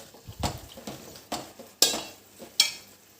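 A spoon scrapes and clanks against a clay pot while chicken is stirred for dum chicken biryani, several uneven knocks and two sharp metallic clinks, close and moderately quiet.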